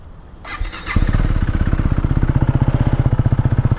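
A KTM Duke motorcycle engine cranks and catches, then settles into a loud, close idle with a steady throbbing pulse; a brief clatter comes before it fires.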